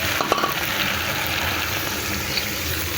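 Water poured into frying taro curry in a pan brings a loud, steady sizzle and hiss that continues evenly throughout, close up and without talk.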